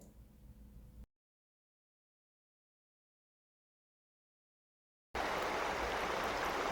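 Cold mountain stream in wintry Calgary, where an American dipper dives, flowing as a steady rushing hiss. It is heard briefly, drops out to silence for several seconds, then returns louder and close.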